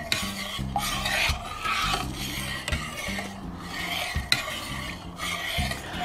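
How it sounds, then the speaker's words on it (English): A spoon stirs a soap mix of coconut oil and yogurt in a container, a close, repeated rhythmic scraping and rubbing with regular strokes and no talking. "Let's give it a good stir until I can't see any more of the coconut oil"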